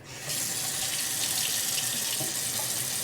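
Water runs from a tap in a cabin newly hooked up to well water with hot and cold supply: a loud, steady, close rushing stream that starts abruptly and continues alone without pause.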